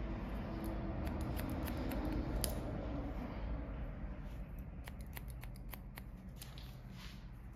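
Close, quiet snips of scissors cutting hair during a layered haircut, a scattered series of crisp clicks over a soft background hiss.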